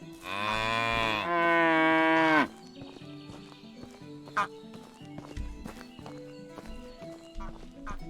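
Cows mooing in the video game Medieval Dynasty, two long, loud low moos back to back near the start, followed by quieter farmyard ambience with clip-clop hooves and faint animal sounds.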